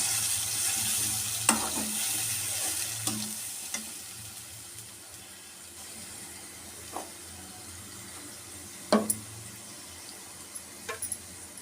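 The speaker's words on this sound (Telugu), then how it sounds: "మసాలా బాగా ఆయిల్ పైన తేలేదాకా మనం దీన్ని వేయించుకోవాలి బాగా." Masala fries in oil for chana kurma, a quiet, steady background sizzle with scattered taps and scrapes of a stirring spoon against the pan.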